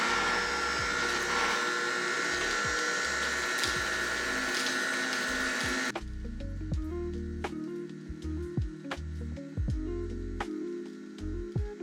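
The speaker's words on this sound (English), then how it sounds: "I'm gonna go ahead and close the juicer and get it started" A Nama J2 juicer runs while making oat milk, giving a steady motor whir with squishy grinding and irregular thumps, close by; the tone changes partway through as it keeps running.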